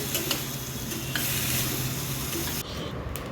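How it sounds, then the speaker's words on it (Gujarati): Vegetables and coriander are stirred in a frying pan, giving a dense, continuous close sizzle with scraping stir strokes that ease off slightly near the end. "સાથે હવે વેજીટેબલ્સ પણ એડ કરી દઈશું. મિક્સ કરી લઈએ."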